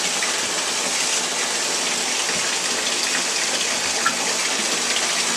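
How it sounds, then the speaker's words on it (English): Water gushes and pours into a bowl as vegetables and fruit are about to be washed, a loud, continuous splashing rush that stays close and steady throughout with no voices over it. "I'm just going to go ahead and pour a little bit of that water into this bowl right here."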